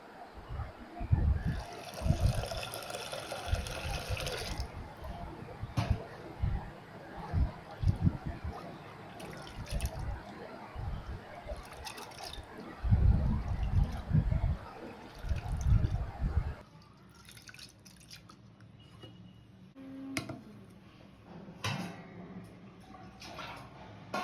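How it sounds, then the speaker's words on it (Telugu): Toor dal being rinsed with water in a kitchen: irregular, close sloshing and swishing bursts for about sixteen seconds, followed by quieter scattered clinks and trickles. "ఇంట్లో శుభ్రంగా కడిగి మంచినీళ్ళు పోసుకొని కొద్దిసేపు నానబెట్టుకుందామండి"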